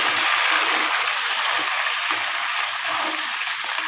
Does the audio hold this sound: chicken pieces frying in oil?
yes